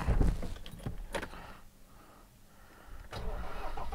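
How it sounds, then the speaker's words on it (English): A Land Rover Defender with a failing 2.2 diesel engine: keys jangle, the starter cranks, and the engine catches and settles into a rough, uneven galloping idle, recorded close by. "Listen for the nice gallop when we fire it up."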